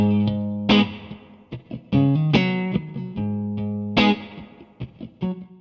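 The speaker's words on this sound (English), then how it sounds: "When you switch between 2 different reverbs, they spill over one another for the ultimate authentic feel." Electric guitar notes and chords ring out with heavy reverb from a Hall of Fame 2 X4 reverb pedal, each decaying tail spilling into the next as new notes strike, with no voices present.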